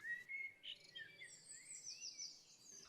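Birds chirp in quick, high twittering calls that sound faint and close, with no other sound behind them.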